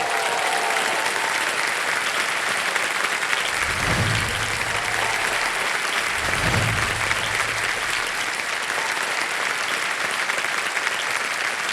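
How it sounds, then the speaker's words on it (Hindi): Loud, sustained studio audience applause for actress Shefali Shah on a quiz show stage, a dense unbroken roar of clapping with a couple of low thumps underneath. "जोरदार तालियां शेफाली शाह जी के लिए।"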